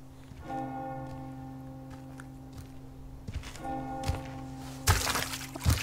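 A church bell tolls inside the Resident Evil 4 game, two sustained metallic rings with long humming decays over faint ambience, followed by a burst of harsh noise at the end.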